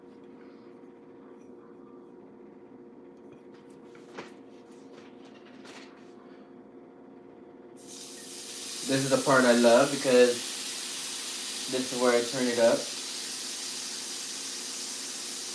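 A loud hissing sizzle bursts in halfway through and holds steady as apple cider vinegar hits a hot pan, while a person talks over it.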